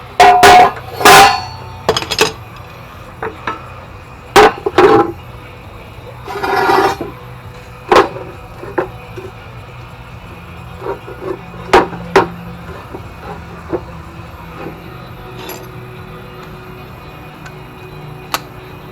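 Hammer blows beating bent metal on a Woods RM990 mower deck, worked from underneath: sharp, loud metallic strikes in irregular bursts, heavy at first, then lighter scattered taps over low background noise.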